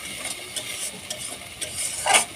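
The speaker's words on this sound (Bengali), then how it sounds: "এই মশলাগুলো কিছুক্ষণ ধরে আস্তে আস্তে করে কষাতে হবে।" Spice paste for mutton kosha fries in a pan with a soft hiss while being stirred slowly, with a few scrapes and one louder clatter near the end; no talking.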